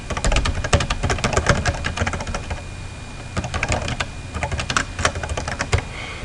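Someone types a short note on a computer keyboard: close, rapid, irregular keystroke clicks in quick bursts, with a brief pause midway before the typing resumes.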